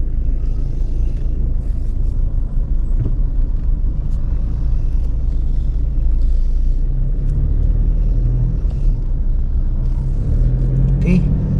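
An automatic car's engine rumbles steadily as it crawls uphill in heavy traffic near Subic, a constant low drone throughout with a person talking over it.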